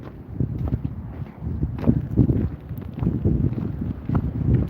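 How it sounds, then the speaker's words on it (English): Gusty wind in a blizzard buffets the microphone, producing low rumbling thumps that come and go in uneven bursts. "Windy today, isn't it?"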